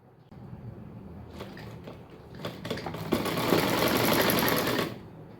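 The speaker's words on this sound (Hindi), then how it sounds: "अब मैं इधर भी सिलाई लगा लूँगी" Sewing machine stitching a seam in pant fabric, running in a steady whirring burst that builds louder for about two seconds and stops, with lighter mechanical rattles before it.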